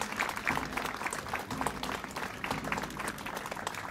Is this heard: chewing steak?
no